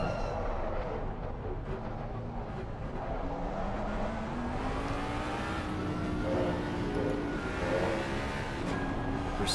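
Race car engine in a sim racing league event at COTA, a continuous revving and shifting drone with rising and falling pitch, moderately loud and alone with no talk.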